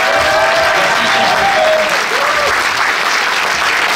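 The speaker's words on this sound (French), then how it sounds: "merci de faire un tonnerre d'applaudissements à Georges Cifrédier" Audience applause at a political rally in Neuilly-sur-Seine for a European deputy: thick, loud, continuous clapping from a large crowd, with faint voices or cheers blended in.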